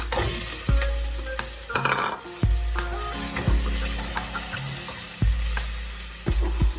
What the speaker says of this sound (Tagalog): Ilunod na natin yung ating shrimp.